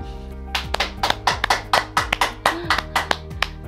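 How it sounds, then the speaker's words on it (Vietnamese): Scattered hand claps from a small audience at a talk, a dozen or so sharp taps spread unevenly over a few seconds, sparse rather than a full roar, with a steady tonal hum beneath. "Một tràng pháo tay cho các anh chị đi ạ."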